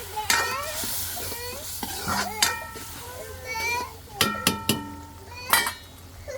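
Turmeric and chili spice paste frying in a pan and being stirred, with sharp metal scrapes and clanks from the spatula over a low sizzle, while children's voices and chatter carry on nearby.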